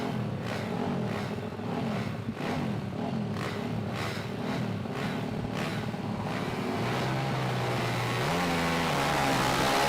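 Dirt bike and quad engines rev together at the start of a race, a layered droning roar with rising and falling pitch sweeps as riders accelerate away, loud and continuous, no talk.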